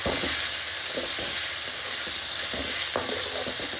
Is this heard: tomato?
yes